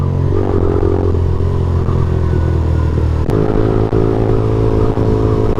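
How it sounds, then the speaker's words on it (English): A motorcycle on the road lets out a rev bomb, its loud, steady engine drone jumping sharply partway through with a rattling clatter, close and continuous. "my bike sounds good, so I want a rev bomb"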